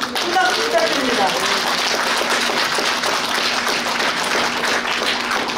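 Audience applause at a Democratic Party rally in Korea, steady dense clapping throughout, with a voice speaking faintly over it near the start.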